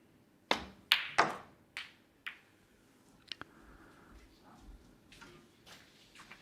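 Snooker balls knock together on the table during a World Championship quarter-final, several sharp clicks in quick succession followed by softer taps and a fainter click, quiet and close, with no commentary over them.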